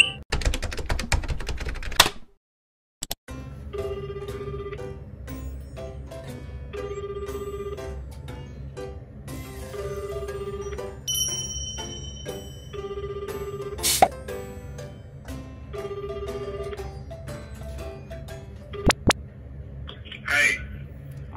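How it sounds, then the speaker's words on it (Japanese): A phone call is dialed and rings out: a brief burst of keypad tones is followed by steady repeating ring tones of even rhythm. Faint room noise sits underneath, and a short clatter comes near the end. "早速ジュンジュンのじじいに電話していきたいと思います"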